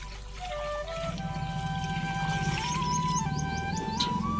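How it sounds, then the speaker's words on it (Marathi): Water pours in a steady, gentle stream with a soft trickle. A few faint high-pitched tones rise and fall over it. "झाडाला थोडं पाणी तर देऊया"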